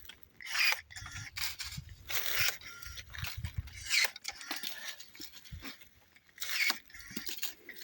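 Pruning shears snip and pull dry, dead branches from a fruit tree, making a close series of crisp cutting and scraping sounds in uneven rhythm, with rustling between the cuts.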